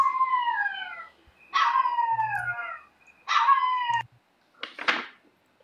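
A dog howls in long, drawn-out wails, three in a row with short pauses between them, then gives a sharp bark at the end, heard fairly close and without talking.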